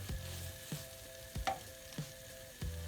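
Beef lips fry in a pot, a soft steady sizzle broken by about five low scraping knocks as a spoon stirs the meat, close up with no voices.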